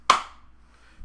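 A single sharp hand clap rings out close and clear, sounding one quarter-note beat before quiet returns.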